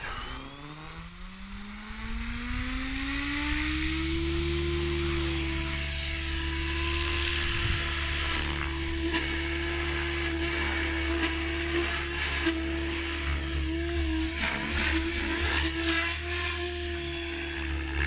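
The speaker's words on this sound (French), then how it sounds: "Donc là, premier décollage, je vais tester en idle 1, voir si les commandes répondent bien" An RC helicopter fitted with a VBar Neo controller spools up for its first takeoff in idle 1, its rotor whine rising in pitch and then holding a loud, steady buzz in flight.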